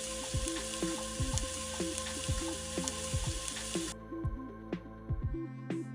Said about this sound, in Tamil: அது கூட 3 காஞ்ச மிளகாய் போட்டு 1 நிமிஷத்துக்கு வறுத்துக்கோங்க.